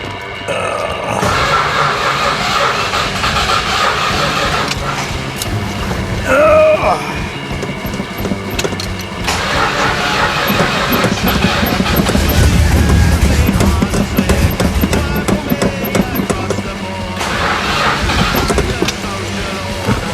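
A 1966 Chrysler New Yorker with a 440 engine that may not be getting fuel cranks over repeatedly in loud bursts, starter grinding in stretches with pauses, while people talk over it.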